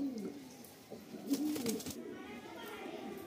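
A Rampuri pigeon coos in a few soft, low phrases near the listener, with faint rustling and background noise between calls.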